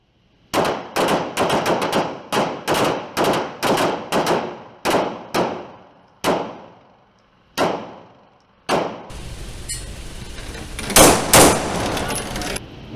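Combat pistol shots at a shooting range: about a dozen sharp, loud reports fired in quick succession, then a few slower spaced shots, ending in a noisier stretch of further shots and outdoor clatter.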